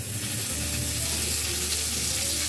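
Butter sizzles in a hot pan while preparing aloo paratha, a steady faint crackling hiss with a low hum underneath.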